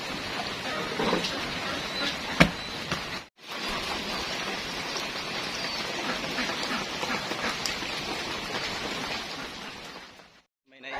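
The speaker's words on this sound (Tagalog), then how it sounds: "So tumigil ng konti, nang bahagya yung ulan." Steady broadband hiss of rainy-season rain falling and pattering on surfaces at a goat farm, continuous and fairly loud, with a brief break midway and a fade near the end.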